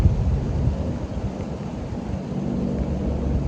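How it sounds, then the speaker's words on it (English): A steady, heavy rush of rain with a deep rumbling undertone, loud and continuous, with no voices. "it started raining out of nowhere"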